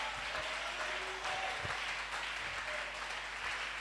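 Church congregation applauding and cheering together during a French-language worship service, a dense, steady wash of clapping with scattered voices throughout, moderately loud and continuous.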